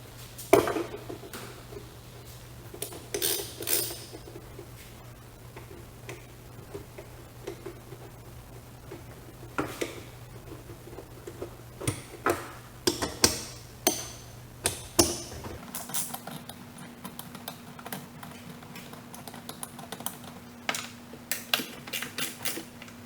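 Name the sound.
10mm socket removing bolts from VW ALH TDI dipstick tube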